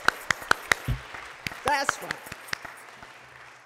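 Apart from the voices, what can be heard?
congregation hand clapping in church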